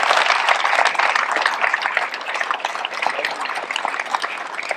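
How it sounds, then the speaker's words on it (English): Crowd applauding at a tennis court dedication in Pershing Square, a broad, sustained round of clapping that starts strong and slowly thins out over about five seconds, with no talk over it. "So let's give them all a round of applause."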